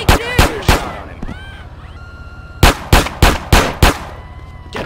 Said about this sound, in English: Get a shot on him.